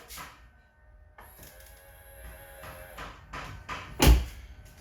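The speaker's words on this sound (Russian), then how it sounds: "Открываем дверь." A Mercedes-Benz car door unlatches and swings open with clicks and rustles, ending in a sharp loud clunk near the close.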